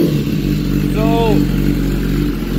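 Motorcycle engine warming up at a high idle, a steady loud mechanical drone with a brief throttle blip rising and falling in pitch near the middle, and a voice talking over it.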